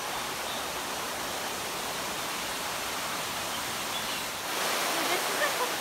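Steady, loud rushing of a man-made waterfall inside a large netted aviary at Jurong Bird Park in Singapore, an unbroken wash of falling water that grows slightly fuller near the end.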